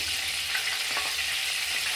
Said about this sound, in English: What I'm doing while the oil is sizzling, right?